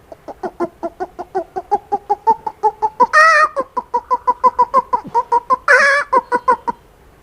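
A man imitates a wild rooster with short, rapid clucking calls in a steady rhythm, broken by two louder, harsher squawks, close and clear.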